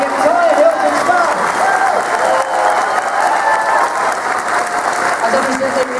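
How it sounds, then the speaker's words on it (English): Convention audience applauding the hotel staff at an opening ceremony, a steady, loud wash of many hands clapping that holds throughout, with a voice speaking over it. "Round of applause, Andrew and the entire Hilton staff."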